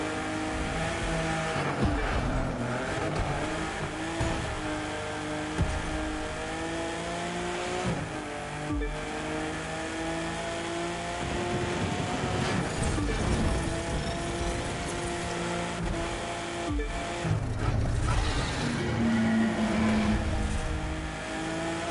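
A car engine drones and revs continuously during a PS4 game, rising and falling in pitch with occasional tire squeals over about twenty seconds, steady and fairly close with no talk.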